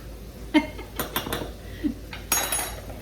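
A metal spoon clinks and scrapes against a pan while stirring garlic, a handful of sharp scattered knocks and scrapes over a few seconds, close with no talking.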